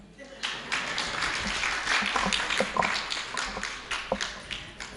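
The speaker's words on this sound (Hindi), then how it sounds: "इसमें ताली कम बजी।" Audience clapping at a Jain religious discourse, a moderate scattered round of applause with sharp individual claps running throughout, somewhat thin and uneven, heard in a hall.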